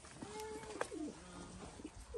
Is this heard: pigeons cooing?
yes